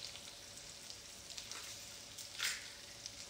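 Food sizzles in a pan in a cooking video game: a faint, steady frying hiss that swells into one brief louder crackle partway through, with no speech.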